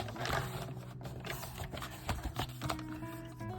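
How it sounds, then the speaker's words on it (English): A Stampin' Up paper trimmer slices through paper in a short run of quick scraping strokes and light clicks, close by, against faint background noise. "This trimmer is from Stampin' Up. It cuts absolutely everything."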